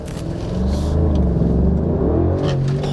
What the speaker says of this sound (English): let's get this car on the road real quick